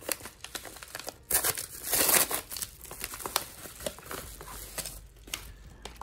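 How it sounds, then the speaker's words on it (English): USPS plastic mailer packaging crinkles and tears close up as it is opened, with irregular rustling bursts and one louder ripping stretch, no speech over it. "First, I'm opening the USPS packaging."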